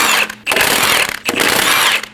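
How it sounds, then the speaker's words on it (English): A 17mm socket on a ratchet spins off lug studs from a 2012–2022 Volkswagen Passat front wheel, heard as two loud close bursts of rapid clicking separated by short pauses. "Using a 17mm socket, remove the 5 lug studs."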